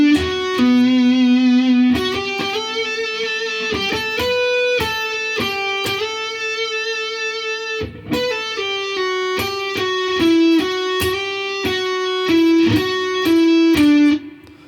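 Electric guitar slowly picking the intro solo line of a song, clean and close, single notes with slides and a few sustained tones, one brief pause midway, no talking.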